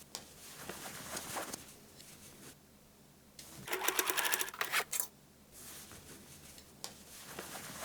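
A sewing machine stitches the lining into the top edge of a shoulder bag made from old jeans, running in short bursts with quieter pauses between, one burst louder and rapidly rattling near the middle.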